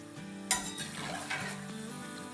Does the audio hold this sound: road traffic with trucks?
no